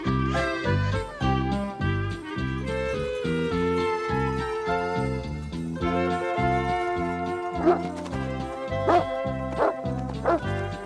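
A dog barks in an Afrikaans-dubbed animated series, with sharp yips popping out near the end over steady background music.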